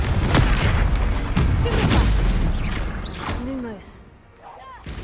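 Confringo fire spells blast in Hogwarts Legacy, producing loud booming impacts and crashing explosions one after another, with a character's voice in the mix.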